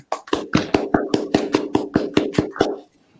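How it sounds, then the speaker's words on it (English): A small group claps a brief round of applause in about a dozen distinct, close, evenly paced claps that stop after roughly three seconds, with no talking. "we want to give a round of applause and a well done to the Dillon family"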